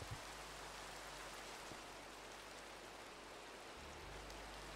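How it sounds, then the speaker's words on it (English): Rain falling in Minecraft, a soft, steady hiss of pattering drops, faint and continuous with no other sounds over it. "It is raining."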